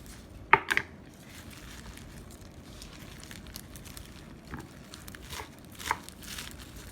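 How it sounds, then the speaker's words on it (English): Spinach being roughly chopped with a knife in a home kitchen, a few quiet, sharp knife taps in a small cluster near the start and a couple more scattered later, faint over low background noise. "So I'm just going to take this and roughly chop it up."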